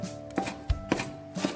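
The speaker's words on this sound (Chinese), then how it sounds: "将它切成葱花" Spring onions are chopped with a knife on a board, giving a few sharp, close, evenly spaced thuds with short gaps between them and no voices.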